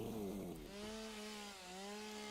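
A video game chainsaw revs while clearing bushes, a loud buzzing engine note that sags and climbs in pitch, running steadily throughout.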